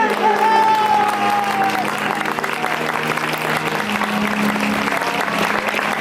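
A worship congregation claps hands together in a steady, dense rhythm, loud and close, with a singing voice gliding over the applause at the start.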